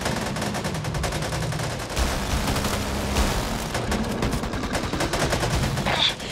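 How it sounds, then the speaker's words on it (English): Sustained automatic gunfire from a minigun in the zombie shooter Back 4 Blood beta, a dense continuous roar of rapid shots with heavy low rumble and scattered impact noises throughout. "Minigun."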